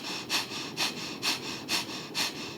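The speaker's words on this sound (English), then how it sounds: "breathing through your nose so the sound is in the nose" Deep yoga breathing drawn in through the nose, five steady rhythmic breaths at even intervals, close and clear with a soft hissing airflow in a quiet room.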